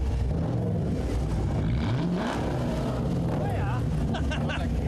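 A 2014 limited edition Challenger with a shaker engine revs in neutral, its low exhaust rumble rising and falling through a couple of throttle blips while people talk nearby outdoors.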